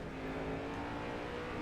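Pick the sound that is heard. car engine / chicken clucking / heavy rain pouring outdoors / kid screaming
car engine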